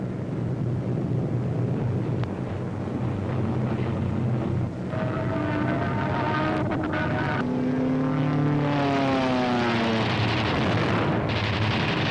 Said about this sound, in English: German fighters attempting to intercept a heavy bomber attack are shot down by P-47s